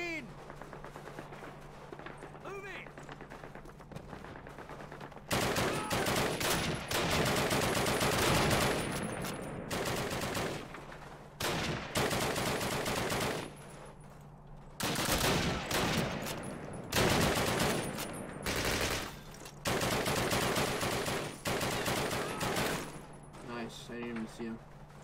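Sustained machine-gun and rifle fire in the original Call of Duty, Allied campaign assault on a V-2 rocket site, with dense loud bursts of automatic gunfire that pause briefly and resume repeatedly across the scene.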